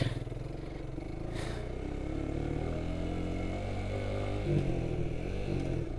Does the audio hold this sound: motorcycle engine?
yes